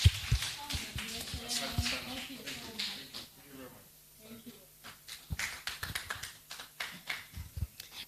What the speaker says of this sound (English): And you can be generous with your claps also